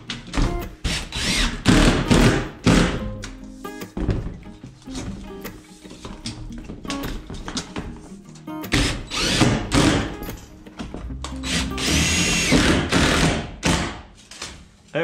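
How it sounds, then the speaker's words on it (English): A power drill drives screws into plastic roofing panels on a roof, in repeated short bursts with thuds between them, loud and close, with no talking. "More rows to put some screws in, and we're gonna have the roof all done."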